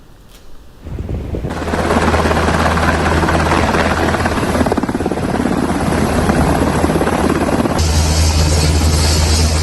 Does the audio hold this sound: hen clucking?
no